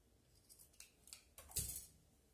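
Scissors cut once through a sewn fabric cord for a long slit dress, a few soft snips building to one crisp, close cut with no talking.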